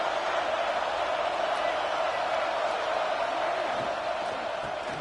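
Steady roar of a stadium crowd at an early-season football game, a dense, loud wash of voices holding level throughout with no single cheer standing out.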